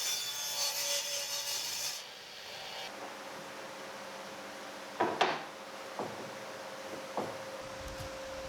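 Cutting a wooden piece to length for a farmhouse-style cross bed, with a burst of rasping sawing strokes at first, then quieter handling knocks and a few sharp taps of the wood.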